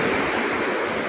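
A swollen, rain-fed river roars where the Thimphu and Paro rivers meet at Chuzom in Bhutan, a loud, steady, broadband rush of water heard alone and close.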